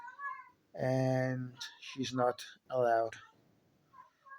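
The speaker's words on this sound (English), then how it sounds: "You may be able to hear a cat in the background." A female domestic cat in heat meows loudly and insistently in long, drawn-out wails, three strong calls rising over a woman's quieter speech.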